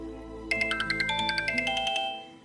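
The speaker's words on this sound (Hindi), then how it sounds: "ओह, शाम का फोन है।" A mobile phone rings with a bright, rapidly pulsing electronic melody that lasts about a second and a half over a faint background hum, then stops abruptly.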